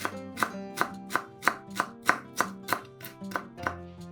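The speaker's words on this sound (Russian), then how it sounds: "Нарезаем пучок укропа." A knife chops a bunch of fresh dill rapidly on a cutting board, about ten crisp, evenly spaced strikes with a ringing tone between them.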